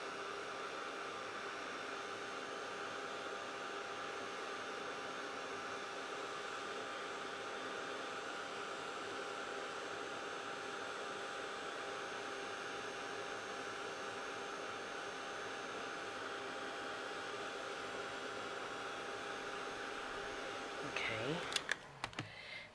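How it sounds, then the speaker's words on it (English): A heat gun heats embossing paint and cosmic shimmer powder on a tile, giving a steady, even blowing hiss throughout, with a few brief clunks near the end. "Take the heat gun again."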